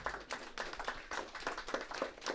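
An audience in a hall claps for a prize presenter at a translation award ceremony, steady dense applause of many hands at moderate distance, with no one speaking.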